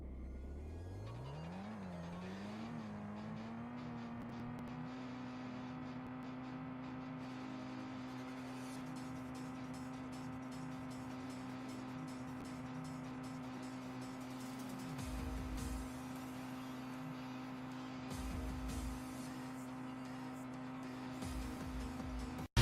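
A car in a video game drives continuously, its engine tone rising as it accelerates and then holding a steady drone with brief dips, alone and without talk.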